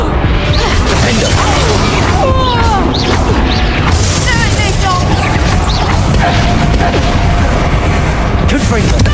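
Repeated Confringo blasting-spell explosions in Hogwarts Legacy, loud booming crashes packed into a relentless battle din, with whooshes and voices shouting through the fight.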